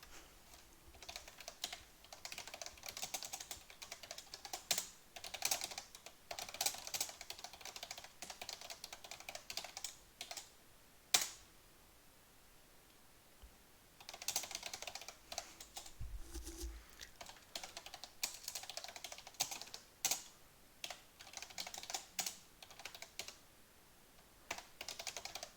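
Steady clicking on a computer keyboard while writing code in Python's IDLE, long runs of rapid keystrokes broken by a few pauses and the occasional sharper tap, close-up with no talking.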